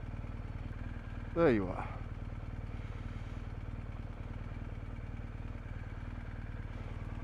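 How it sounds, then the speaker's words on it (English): A BMW R1250GS motorcycle engine, the bike loaded with panniers and a top box, drones steadily and fairly loud throughout, with a brief rider's voice speaking early on over the engine and wind. "It's a bit strange riding the bike with all the panniers on and top box."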